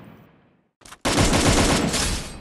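Gunfire in the video game Free Fire: after a brief quiet, a short burst bursts in followed by a loud sustained rattle of rapid automatic shots.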